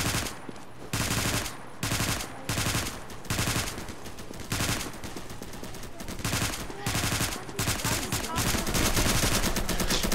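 Gunfire in the Roblox game Evade rattles out in loud, rapid automatic bursts separated by short gaps, then runs into a longer sustained stretch of shooting near the end.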